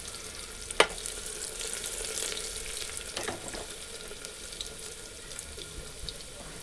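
Crushed garlic sizzles in hot oil as a tempering for a black urad dal amti, a soft steady frying hiss with a sharp clink near the start and faint stirring scrapes, fairly quiet throughout with no talking.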